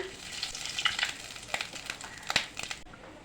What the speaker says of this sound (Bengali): সাদা জিরা দিয়ে দিলাম